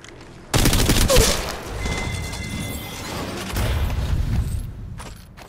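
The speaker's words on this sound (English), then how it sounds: "where was that shot just come from?" Gunfire in the mobile shooter game Apex Legends Mobile: a sudden loud burst of rapid automatic shots that rattles on for several seconds, with distant battle noise and mechanical clatter behind it.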